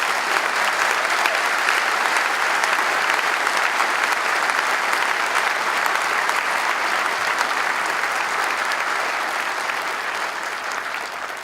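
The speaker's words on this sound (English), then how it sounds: "How about a round of applause for our first responders?" A large crowd at a city memorial service applauds first responders in a dense, sustained wash of clapping that stays loud throughout and thins only slightly toward the end.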